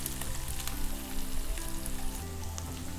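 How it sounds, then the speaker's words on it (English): A slit mild chili dropped into a hot pan of butter chicken curry base, giving a steady close sizzle and crackling fry with faint spitting, no talk. "I'm going to just add 1 chili here."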